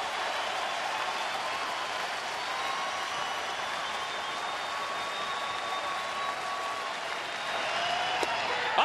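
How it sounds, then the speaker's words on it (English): A sold-out crowd at a Phillies home baseball game against Toronto cheers and applauds in a tied seventh inning, a steady distant roar of clapping and voices that swells slightly near the end. "Sold out crowd coming to their feet."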